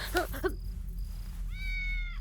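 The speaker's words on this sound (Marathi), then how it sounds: "ते मांजर होतं गोधडीत." A cat hidden under a quilt lets out a single drawn-out meow, clear and moderately close, following a brief moment of speech.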